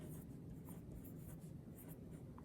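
Children writing their names on paper in a second-grade art classroom, a steady close scratch of pencils or crayons on paper continuing throughout without talk.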